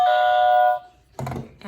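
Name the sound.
trivia game buzzer being pressed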